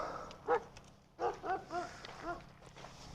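Dogs guarding a desert camp in Quartzsite, Arizona bark a few times at a distance, short sharp barks in an uneven run against quiet outdoor background noise.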